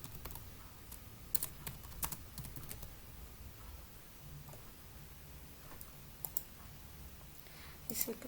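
Computer keyboard keys clatter in quick, irregular bursts of typing while a form is filled in, close but faint over a low steady background hiss, with occasional sharper clicks.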